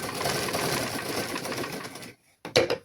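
A sewing machine stitches a pillow cover in a steady, fast mechanical run for about two seconds, then stops briefly before a short final burst of stitching.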